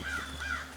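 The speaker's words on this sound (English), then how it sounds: "But that crow is all the way up there." A crow caws twice from high overhead at a river island campsite, two short, distant calls in quick succession above a quiet outdoor background.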